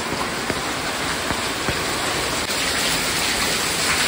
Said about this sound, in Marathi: हे सगळं आपल्या नदीचं पाणी आहे